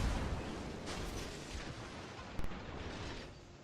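Ship guns firing in World of Warships, with a faint, distant artillery boom at the opening and another sharp report partway through, set in a low, steady rumble of naval battle ambience.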